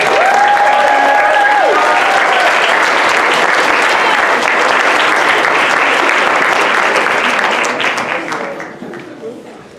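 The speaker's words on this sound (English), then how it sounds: "Let's guys give them a big round of applause." A crowd at a school band event gives a loud, dense round of applause for rookie drum majors, with cheers and voices mixed in, the clapping holding strong before tapering off in the last seconds.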